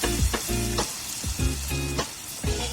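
Pigeon meat fries in a pan for a village-style Assamese curry, sizzling steadily close up with repeated stirring scrapes in a loose rhythm, no voices.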